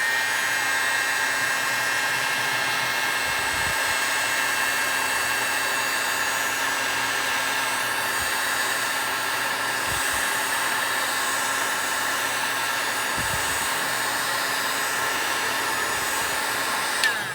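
A heat gun warms paraffin wax on the stock of a relic G-98 Imperial German Mauser rifle, blowing a steady, unbroken high whine and rush of air close by, with a few faint low thumps.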